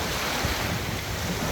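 Surf and steady wind on the open sea during island hopping around Caramoan, Bicol, a continuous broadband wash with low rumbling wave energy and wind buffeting the microphone, no voices.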